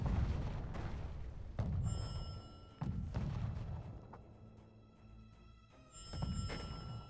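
Mortar artillery in a Conqueror's Blade battle: several heavy booms and thuds spaced a second or so apart, fairly close, over a busy battlefield din with a faint high ringing tone.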